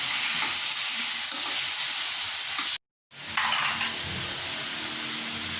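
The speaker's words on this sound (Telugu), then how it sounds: "ఇప్పుడు కొన్ని టమాటా ముక్కలు వేస్తున్నానండి" Tomato pieces sizzle and hiss steadily in a hot pan holding aloe vera pulp, a loud close frying noise with a brief cut of total silence midway before the sizzle resumes.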